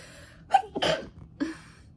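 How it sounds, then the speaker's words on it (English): A single close, sharp sneeze with a quick gasping intake just before it, in an otherwise quiet room. "Confirmation sneeze, I suppose."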